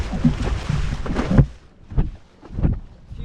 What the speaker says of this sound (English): already getting speed, just the board moving across the water